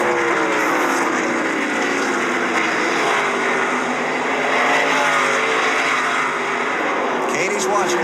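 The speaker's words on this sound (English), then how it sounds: "Final lap at Richmond." NASCAR stock cars roar around Richmond's three-quarter-mile oval on the final lap, a loud continuous engine drone with shifting pitch as the field passes, steady throughout.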